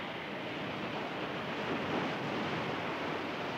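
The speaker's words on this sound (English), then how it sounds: "Now the incessant waves are breaking down the retaining wall." Ocean waves surge steadily against a canvas-filled sand retaining wall on Kira Beach, a continuous broadband wash of surf with wind, no breaks or talk, fairly loud and close.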